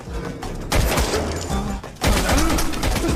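Gunshots ring out in an Indian film scene: loud, sharp bursts of gunfire in quick succession across a few seconds, mixed with the film's other sound.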